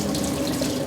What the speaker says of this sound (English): So I'm just going to drain the liquid,